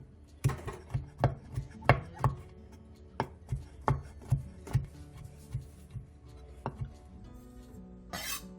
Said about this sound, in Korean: 떡국떡 15개도 단호박과 비슷한 크기로 잘게 다져주세요